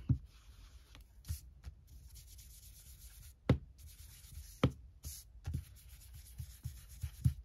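A small brush moves over old paper while an envelope is decorated for a junk journal, making soft scratchy rubbing strokes with occasional light taps, close and quiet, with no speech.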